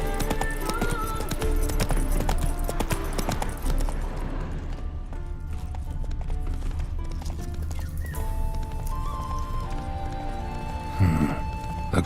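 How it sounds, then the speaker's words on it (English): A horse gallops in The Witcher 3, hooves clip-clopping in a steady rhythm over game music and ambience, with a brief neigh-like burst near the end. "Run, Roach"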